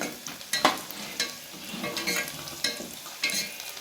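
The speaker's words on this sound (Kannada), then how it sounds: "ಈಗ ನೋಡಿ ಉಳ್ಳಾಗಡ್ಡೆ ಫ್ರೈ ಎಲ್ಲ ಕೂತವ." Onions sizzle and fry in a pan for bisi bele bath, with a soft steady hiss broken by several clanking stirs of a spoon, close and fairly quiet.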